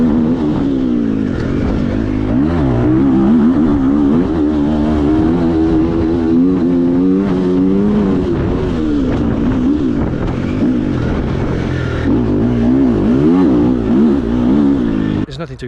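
A Triumph TF 250-E enduro motorcycle rides through the woods at a time card enduro event. The engine drones continuously and close, its pitch rising and falling as the rider works the throttle.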